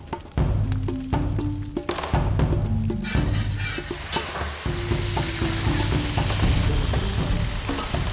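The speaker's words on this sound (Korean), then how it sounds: "바로 물에 데친 후 냄비에 넣고 볶으면 됩니다." Blanched lamb meat stir-fries in a pot, a loud crackling sizzle with repeated clatter and stirring scrapes, close and continuous without talk.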